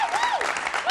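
A studio audience at a comedy show claps and cheers in a dense, steady wash of applause, with a voice rising over the crowd noise.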